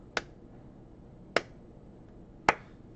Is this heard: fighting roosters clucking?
no